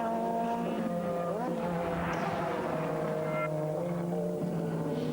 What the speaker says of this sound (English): They come up behind the second of the Freisinger Motorsport Porsches, and Philipp Peter, the Austrian